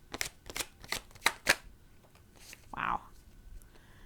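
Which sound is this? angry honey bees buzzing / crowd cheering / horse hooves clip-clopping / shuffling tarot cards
shuffling tarot cards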